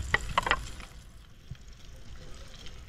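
Tilapia frying in a pan outdoors by a river, faint soft sizzling and a few clinks of utensils near the start, with quiet crackle continuing underneath.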